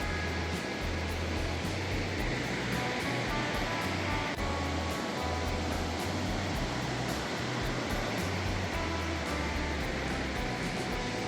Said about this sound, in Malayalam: ഈ ഒരു സൈഡിലുള്ള ഈ വെള്ളം പോണതാണ് നമുക്ക് വെള്ളച്ചാട്ടമായിട്ട് കാണുന്നത്